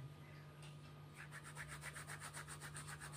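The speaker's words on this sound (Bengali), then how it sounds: "এইভাবে ঘষে দিতে হয় জোয়েনটা।" Ajwain (carom seeds) rubbed between the palms into flour and oil for khasta kachori dough, a soft dry rhythmic rasping that starts after a second and repeats in quick even strokes, close and quiet over a steady low hum.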